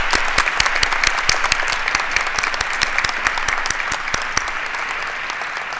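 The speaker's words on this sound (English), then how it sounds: "please stand up and receive our round of applause" A concert band receives steady audience applause at a naturalization ceremony, dense claps filling the room alone with no voices, a few sharper claps standing out near the front.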